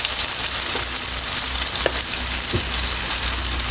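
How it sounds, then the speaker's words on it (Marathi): Semolina-coated fish frying in a pan of oil gives a loud, continuous close-up sizzle, broken by a couple of soft clinks as the pieces are moved. "मस्त तसं कुरकुरीत होसपर्यंत आपल्याला तळून घ्यायचं आहे"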